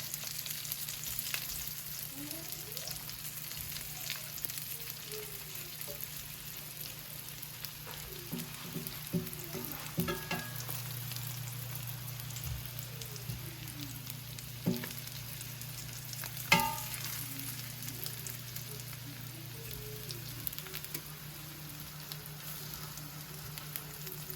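Eggplant slices fry in extra virgin olive oil in a skillet, giving a soft, steady sizzle with occasional faint clinks of a utensil and a low, constant hum in the background.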